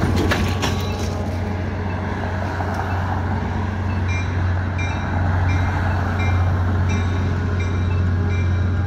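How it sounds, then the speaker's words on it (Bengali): A metro railway train pulls into a station near a level crossing, its steady low rumble and wheel roar continuous and loud throughout, with faint high squeals and tones above the drone. "ট্রেন থেকে অনবরত এই আওয়াজটা হতে থাকে যখন স্টেশনে ঢোকে"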